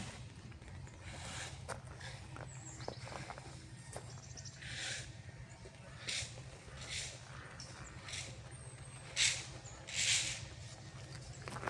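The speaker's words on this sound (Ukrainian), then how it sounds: "Такий дощик капатий" Faint, scattered drips of light rain patter irregularly over a quiet outdoor hum in a park in October, soft taps landing here and there with a few slightly louder drops near the end.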